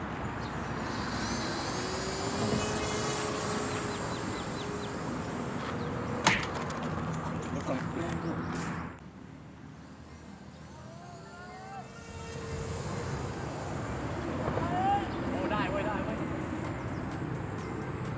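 A mini radio-controlled airplane with a 60 cm wingspan runs its motor at about 70-80% throttle, giving a steady, thin buzz over outdoor background noise and voices, with the pitch shifting as it flies.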